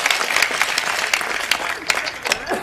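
An audience at a live Hindi comedy show applauds, giving a dense, continuous patter of clapping throughout the short stretch. The clapping is fairly loud and near, with a few sharper individual claps standing out.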